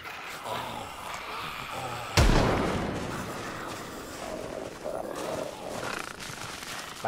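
A single sharp gunshot in the zombie survival game Project Zomboid cracks out, loud and close, then its echo fades into a low, steady ambient rumble.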